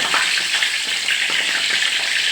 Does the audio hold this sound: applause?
no